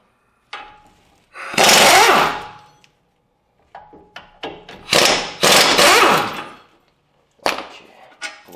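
Power-tool bursts loosen the 18mm caliper bracket bolts on a 2007-2017 Ford, coming as several loud, close, harsh rattling spurts separated by quiet gaps, with a few sharp clicks and knocks between them.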